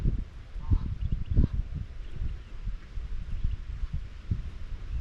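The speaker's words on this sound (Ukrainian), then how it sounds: "качури." Drakes on the water in Bruges give low, raspy quacks in short scattered bursts, fairly faint and close, over a quiet outdoor background.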